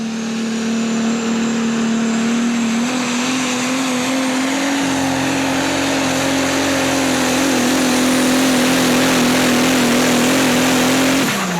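A Super Stock Diesel 4wd pulling truck roars at full throttle through a loud, sustained run at a truck pull, its engine note climbing and dropping rough partway through as though a cylinder cut out, with no talk over it.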